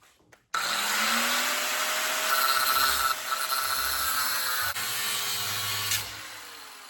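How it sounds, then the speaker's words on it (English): A thin cutoff wheel slices through metal roll cage tubing on a NASCAR Craftsman Truck build. It starts with a sudden loud whine and holds a steady, harsh cutting screech with slight dips as the wheel bites, and no one speaks. "The good thing about using thin cutoff wheel, you can actually cut this and move it back"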